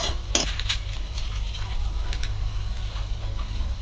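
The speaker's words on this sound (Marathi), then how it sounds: "2 लवंग, सुकी वेलची, याला आपण छान फ्राय करून घेऊया।" Whole cloves and dry cardamom pods frying in a pan for a Malvani fish masala, with light ticks and clinks of spices and utensil against metal over a low, steady sizzle; no talk.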